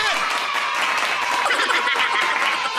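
Crowd applause and clapping at a political rally in the Philippines, a dense, steady wash of many hands sustained throughout under a loud, lively crowd.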